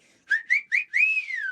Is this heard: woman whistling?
yes